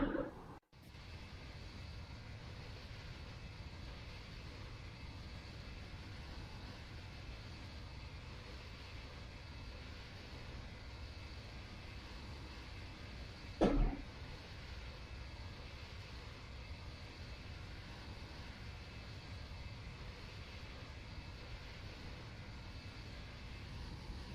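Steady cabin-style drone of an Airbus A320-211 engine in a Prepar3D v5 flight simulator in chase view, continuous and moderately loud, with a brief click near the start and a short bump around the middle.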